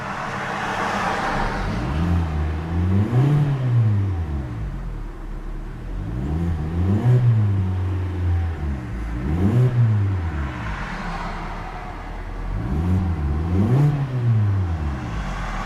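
Engine of a 2011 Hyundai Elantra Limited revving repeatedly, three rising and falling swells roughly four seconds apart, steady and fairly loud from inside the car with no talk.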